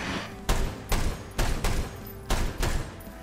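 Gunshots in the VR game Hard Bullet ring out as six loud, evenly spaced cracks about half a second apart, each leaving a brief thud and tail, with no talking.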